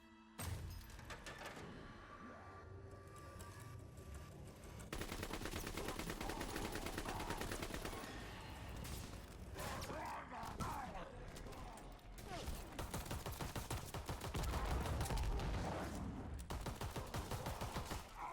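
Dense, rapid pistol fire and action effects from a Call of Duty match on The Darkest Shore map, loud and continuous, with a voice talking underneath.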